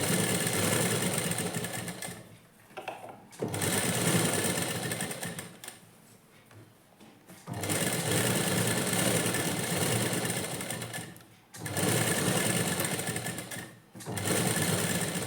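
A sewing machine stitches the lining of a blouse at the neckline, running in steady whirring bursts separated by brief pauses. It is loud and close, with no talking.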